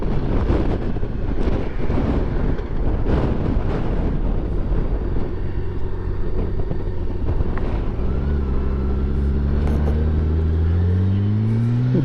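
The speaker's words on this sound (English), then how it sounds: "Oh, here comes the wind." Strong wind gusts roar and buffet the microphone while riding, a loud continuous rush; partway through, a motor's rising and falling drone joins in underneath.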